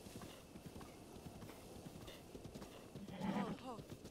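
A horse in The Legend of Zelda: Breath of the Wild trots with rapid, soft hoofbeats and gives a brief whinny near the end, all under a voice talking.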